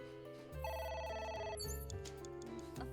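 A phone rings in a video game, a steady electronic trill starting half a second in and continuing under background game music, clear and fairly close.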